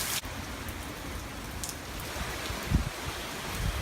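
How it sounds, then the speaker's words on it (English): Rain falling in Orlando during Hurricane Irma, a soft steady patter on surfaces with a few louder nearby drips and knocks. "Just rain down here in Orlando."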